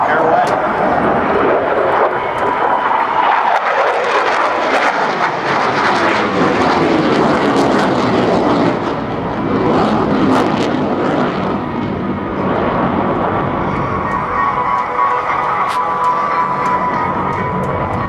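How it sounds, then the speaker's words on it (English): An F/A-18F Super Hornet performing a vertical pirouette at a naval air station airshow, its jet engines a loud sustained roar that rises and shifts in tone as it climbs and turns, with an announcer talking over it. "At the top of the climb, watch how the aircraft swaps ends and rapidly points back down to the earth."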